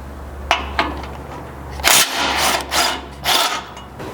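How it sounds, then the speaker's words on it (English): On a 2022+ Toyota Tundra, a 17mm socket removes crash bar bolts with a couple of sharp metallic clicks, then louder bursts of ratcheting and bolt turning against a low steady hum, close and clear. "those will come out with a 17mm socket."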